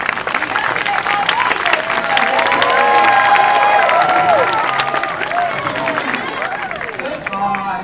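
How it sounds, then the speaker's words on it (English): An audience at a safari park sea lion show claps along in a loud, sustained burst mixed with crowd noise and cheering, while a presenter's voice carries over the top. "So if everybody would like to start clapping along to little Callum"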